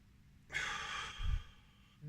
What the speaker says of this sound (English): So it's diaphragmatic breathing, I think they call it